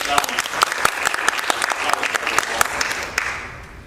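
Theatre audience applauding after a monologue at a BFA senior showcase, a dense wash of many hands clapping that stays loud and steady, with some voices mixed into the crowd noise.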